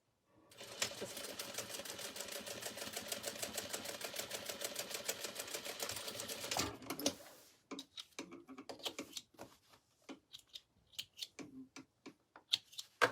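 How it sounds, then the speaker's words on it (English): A sewing machine runs a continuous rapid stitching burst for several seconds across a canvas and vinyl tote bag, then stops, followed by scattered handling clicks and taps. "I'm going to do that one little tiny row of stitching right above that"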